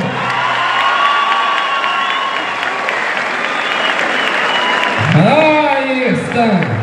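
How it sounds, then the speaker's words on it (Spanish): Crowd applauding and cheering at a bull riding tournament closing a town fair, a dense steady roar of claps and shouts throughout, with a voice rising over it near the end. "mi compa Migue, que montó Eligio Nava, regálele fuerte el aplauso."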